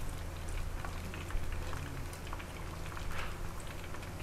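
Prawn fritters (cucur udang) fry in hot oil, giving a steady, quiet bubbling sizzle with light crackles throughout and no one speaking.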